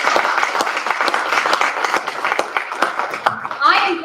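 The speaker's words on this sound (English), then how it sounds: "Let's give William Hauser, our MC tonight, a round of applause" Audience applause for the MC at an evening recovery community event, a burst of clapping from a room of people, mixed with some voices.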